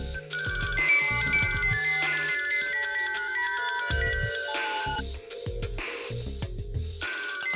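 A mobile phone ringtone plays a steady, melodic electronic tune that loops without pause, loud and close, with no voices over it.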